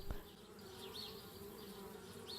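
Bees buzzing in the point-and-click game Anna's Quest: a soft, continuous insect drone with wavering higher buzzes drifting past, quiet and alone, opened by a single short click.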